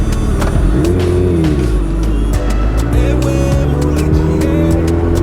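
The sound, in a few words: Hayabusa superbike engine revving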